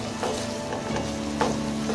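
Green onion leaves frying and being stirred in a pan while chicken bread kabab is cooked, giving a steady close sizzle with soft scraping stirs throughout.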